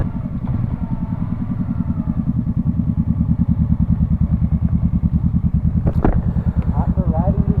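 A Yamaha YZF-R3 motorcycle engine runs with a loud, rapid throbbing pulse throughout, close by, with a brief clatter near the end.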